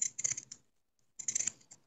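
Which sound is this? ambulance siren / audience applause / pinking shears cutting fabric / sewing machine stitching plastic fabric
pinking shears cutting fabric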